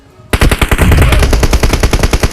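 Rapid gunfire from PUBG Mobile gameplay erupts after a short pause, a dense burst of loud, close, evenly spaced shots rattling on without a break.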